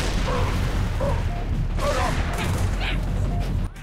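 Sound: gunfire and grenade explosions in the video game Halo

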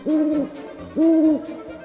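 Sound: owl hooting in a bedtime story

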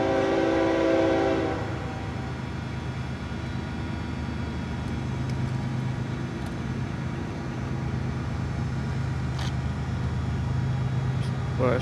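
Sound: FEC 222 freight train passing with horn

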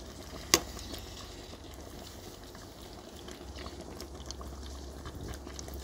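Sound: vegetables being blanched in boiling water

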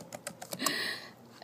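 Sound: typing on a computer keyboard

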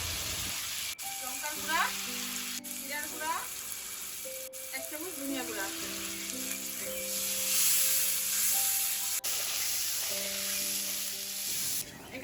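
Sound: ginger, onion, garlic, chilli paste with salt and turmeric frying

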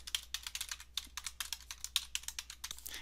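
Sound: typing username and password on computer keyboard

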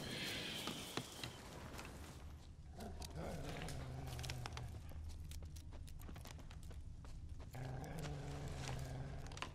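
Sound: wolves growling, from video game The Witcher 3

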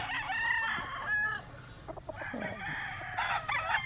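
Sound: rooster crowing

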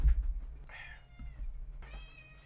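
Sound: cat meowing

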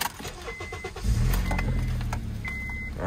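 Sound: car engine starting up at auto auction

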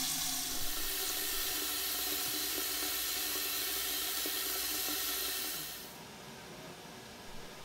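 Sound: water filling a large pot

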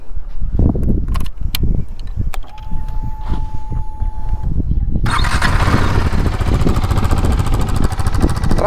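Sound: KTM RC 390 motorcycle exhaust note

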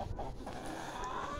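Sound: rooster and hens clucking

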